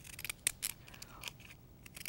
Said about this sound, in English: There's all different decorative edge scissors.